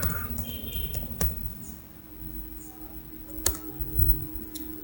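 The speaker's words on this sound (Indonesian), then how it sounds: "di sini bisa kita ketikkan nslookup facebook.com" Keys being typed on a computer keyboard while entering a command in a Windows command prompt, a quick run of light clicking taps with a few sharper key strikes, close and alone.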